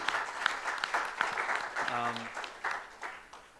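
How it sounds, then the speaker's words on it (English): An audience applauds after startup pitches at a TiE Mysuru open mic event, a steady round of clapping from a crowded hall with a short tonal beep in the middle, fading slightly at the end. "A huge round of applause to all the people who pitched."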